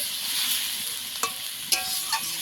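Leafy greens with potato sauté in a hot pan, a steady frying sizzle punctuated by a few sharp scrapes and clinks of a stirring spoon.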